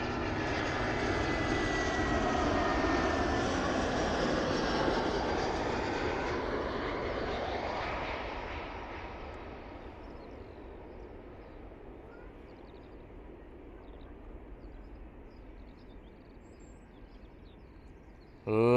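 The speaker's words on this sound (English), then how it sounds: "Lovely touchdown from that 320 coming in from Belfast this morning." An Airbus A320 airliner touches down at Bristol on arrival from Belfast, its broad jet engine roar loud at first, then fading to a steady distant rumble as it rolls out down the runway.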